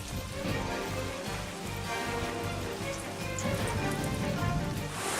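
Steady rain falls during a wet-season mountain hike on Mt Binga in Mozambique, a dense continuous patter and hiss that stays fairly loud and even throughout, with no voices.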